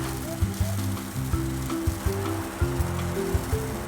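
An iron wok being seasoned by burning over heat gives off a steady sizzle with soft crackles and pops over a low burner roar, close and continuous.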